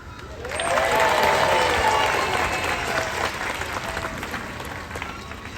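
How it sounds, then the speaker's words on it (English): Applause swells from a zoo audience watching a trained seal perform, rising after a brief quiet start and holding as a broad, moderately distant wash of clapping with faint crowd murmur. "I ask you all to give her a big round of applause and lots of encouragement"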